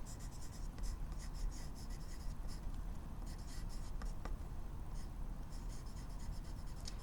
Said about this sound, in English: So you can write them on strips of paper like this